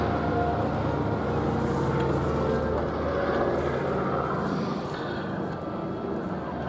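A PBY-5A Catalina amphibious aircraft at the Duxford air festival, a steady, fairly distant droning rumble of piston engines that holds throughout without a break.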